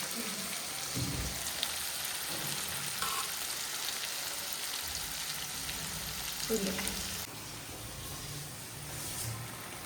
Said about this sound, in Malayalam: ചിക്കൻ പൊരിക്കുന്നു